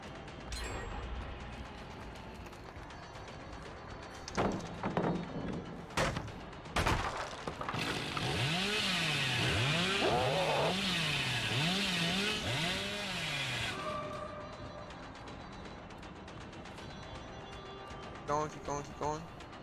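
The Hillbilly's chainsaw in Dead by Daylight revs loudly for several seconds, its pitch wavering in repeated surges, while someone talks over the game sounds.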